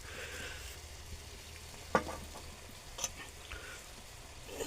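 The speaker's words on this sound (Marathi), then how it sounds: "आता वहिनी थोडंसं ते सोयाबीनचे आहेत मीठ मसाला हळद लावलेले ते टाकते" Soybeans coated with salt, masala and turmeric land in a hot oiled pan, giving a steady low sizzle with a sharp crackle near two seconds and smaller pops afterward, close and fairly quiet.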